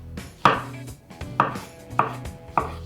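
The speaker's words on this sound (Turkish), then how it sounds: "Şimdi makarna suyu kaynarken arkada ben mantarlarımı doğrayarak başlıyorum." Knife chopping mushrooms into large chunks on a board, four crisp separate strikes at an unsteady pace, close and clear, no voices.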